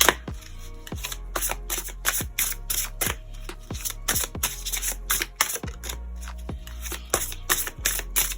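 Tarot cards being shuffled and riffled in a steady series of crisp, quick slaps and flutters, close and fairly loud, repeating at a regular rhythm with no talk.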